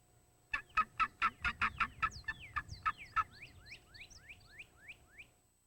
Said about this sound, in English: calls on his tube yelper and keeps the birds interested